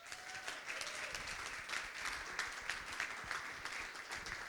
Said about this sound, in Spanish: un aplauso para Diego